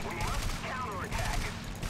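Rapid machine gun fire from a Spitfire fighter in the War Thunder combat flight game, a dense continuous burst with an engine drone underneath for the full duration.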